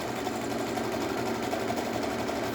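A sewing machine runs steadily while stitching elastic onto the edge of panties, giving a rapid, even mechanical whir with a fine rhythmic patter, close and moderately quiet with no talking.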